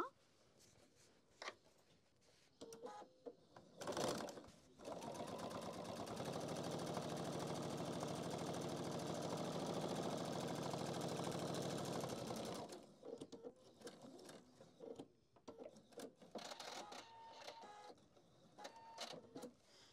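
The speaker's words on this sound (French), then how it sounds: "Je vais également coudre cette couture-là." A sewing machine stitching a seam on a handbag organiser runs as a steady, even whir for about eight seconds, framed by quieter handling and shuffling noises before and after.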